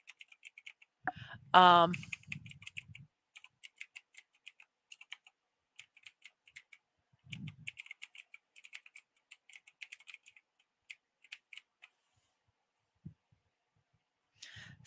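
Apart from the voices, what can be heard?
typing on a computer keyboard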